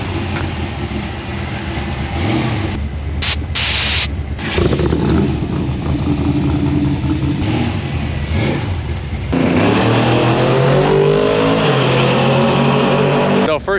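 Drag race cars revving and accelerating at a drag strip, a loud, sustained engine roar with rising pitch sweeps toward the end, heard from nearby with background crowd noise.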